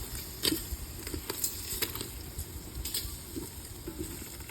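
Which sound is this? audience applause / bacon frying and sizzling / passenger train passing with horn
bacon frying and sizzling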